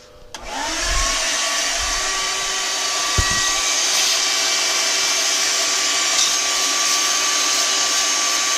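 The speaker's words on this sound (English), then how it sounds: "Vacuum it up and see what it looks like." A vacuum cleaner starts up and runs with a steady loud whine and airy roar while sucking up brass chips from a freshly machined hole in a car part, with a few clinks of debris.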